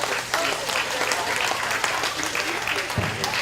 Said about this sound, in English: give them a round of applause for bringing out a heavyweight gilt